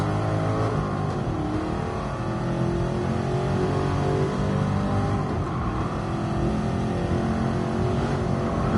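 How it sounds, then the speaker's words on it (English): A loud Black Series car's V8 engine roars and revs continuously nearby on the Nürburgring, its deep rumble rising and falling as the car accelerates, with no talking. "That V8 sounds sick behind us."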